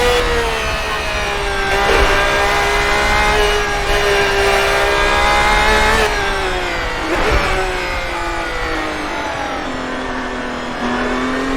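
A Race Sim Studios LMP GT1 race car engine in a racing simulator drones loudly and steadily, pitch rising and dipping through gear changes and throttle lifts, with no talk.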